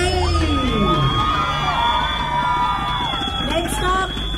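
A Singapore community parade crowd cheers and shouts loudly and continuously, with children's whoops and excited babble layered over a dense, steady roar close by.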